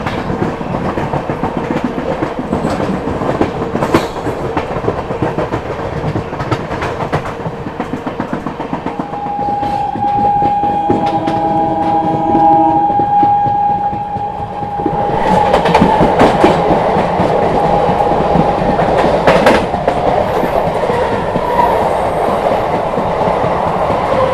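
Howrah Rajdhani Express running on rails, a steady loud rumble with rhythmic clickety-clack of wheels over joints, brief tonal wheel squeal midway, continuous and close throughout.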